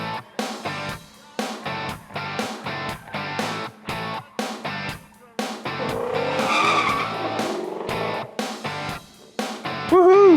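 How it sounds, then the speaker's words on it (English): A brand new Ford Mustang races past at a car show event with revving engine bursts, shifting gears and tires squealing in the middle, loud and close. "here we are, off for a blast in a brand new Mustang"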